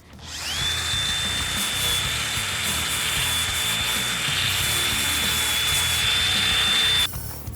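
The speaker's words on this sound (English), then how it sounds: "I'm going to start with an angle grinder" An angle grinder whines steadily at high pitch with a harsh abrasive rasp against a metal car door panel, running loud and unbroken for several seconds before cutting off.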